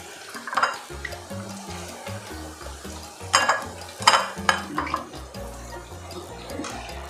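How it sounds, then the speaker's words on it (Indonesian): Young papaya gets stirred in a pan with a spatula, producing repeated scraping and clinking strokes over a soft simmering bubble, close by without voices. "terus diaduk-aduk"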